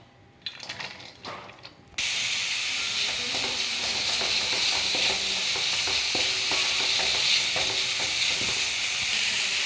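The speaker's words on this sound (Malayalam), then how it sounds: "നമുക്കൊന്ന് സോട്ട് ചെയ്തെടുക്കാം" Ivy gourd (kovakka) sautéing in coconut oil in a pan, with a loud, steady sizzle and hiss that kicks in after a brief quieter stretch of scraping and stirring.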